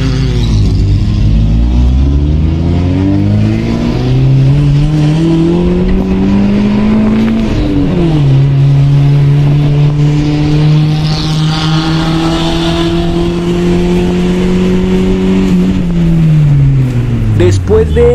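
A Chevrolet Spark and a Honda revving and racing side by side, loud sustained engine drones rising and falling through gear changes, close and continuous, with a voice talking over the engines.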